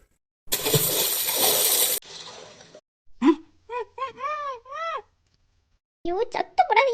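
A person is pushed into water with a loud, sustained splash and churning, then a short gasp and a voice crying out in distress.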